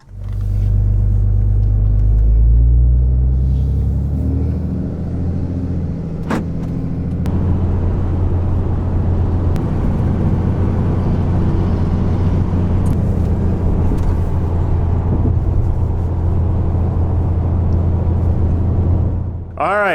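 Car engine rumbling steadily as the vehicle drives along the road, a loud continuous low drone with slight revving, on the way to buy a cheap used forklift.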